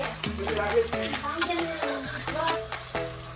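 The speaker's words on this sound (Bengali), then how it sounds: "একটু টমেটো কুচি দিয়ে একটু নেড়ে নিচ্ছে" Chopped garlic and tomato fry in hot oil while being stirred, with a steady sizzle and scraping under an overlay of background music and no clear speech.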